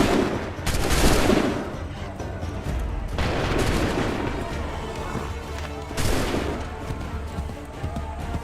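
Musket volleys in Assassin's Creed III roar out as three broad crashing blasts a few seconds apart, each trailing into rumbling echoes and scattered crackle.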